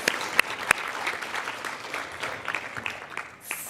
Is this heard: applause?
yes